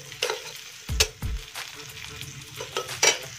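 Garlic, ginger and masala paste stirred and fried in a pan, with a steady sizzle broken by several scraping, clattering stirs of a spoon against the metal, close and fairly loud, no voices.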